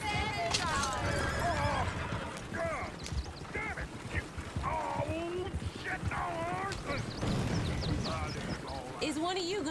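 Horse neighs and squeals with hoof clip-clops in Red Dead Redemption II, repeated loud whinnies over busy game noise while people talk throughout.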